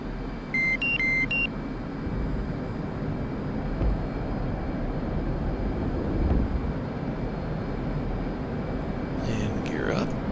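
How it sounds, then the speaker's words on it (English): F/A-18 Hornet jet engine in DCS World spooled up to full afterburner for takeoff, a steady loud broadband roar holding throughout, with brief electronic cockpit beeps near the start and a short tonal warning near the end. "And then up to full burner when we're ready to take off."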